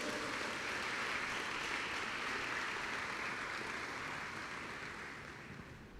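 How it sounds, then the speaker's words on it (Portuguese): A church congregation applauding Jesus after a healing testimony: a broad, even wash of many hands clapping at a distance, continuous and fairly soft, fading slightly toward the end. "Dê um aplauso bem forte ao Senhor Jesus."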